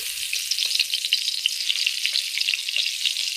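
Eggplant pieces coated in salt, turmeric and chili powder frying in a pan, a close, continuous bright sizzle with crackling pops and no talking.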